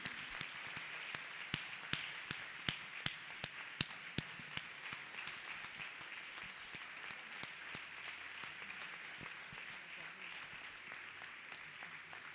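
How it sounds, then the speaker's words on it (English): A church congregation claps for Jesus at a healing testimony service: a steady wash of many hands with sharp, regularly spaced claps keeping time, fairly faint and continuing at an even level throughout. "let us clap our hands beautifully for Master Jesus"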